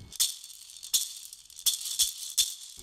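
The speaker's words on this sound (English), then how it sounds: "the maracas," Maracas are shaken in a regular rhythm, giving about six crisp, bright rattling bursts of beads, each a sharp swish followed by a short decay, close and alone.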